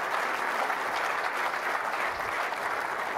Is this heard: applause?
yes